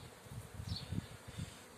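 Buckfast honey bees buzz close by with a steady, faint drone that swells and pulses slightly.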